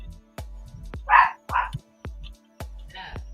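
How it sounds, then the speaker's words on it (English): A dog barks repeatedly at close range, several sharp woofs in a loose rhythm with thumping noises between them. "Steve, Frank wants to know if it's you barking."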